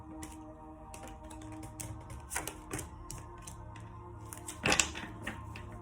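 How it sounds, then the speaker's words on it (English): Tarot cards shuffled by hand, a faint run of light papery flicks and taps with a brief sharper riffle near the end, and no talking. "Cards flying everywhere."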